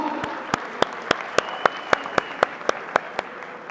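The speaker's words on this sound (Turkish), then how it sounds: "büyük bir alkış alabilir miyim İstanbul?" Arena crowd at an Istanbul fight event applauds both fighters before the result, a dense roar of clapping with a few sharp, evenly spaced claps standing out near the microphone.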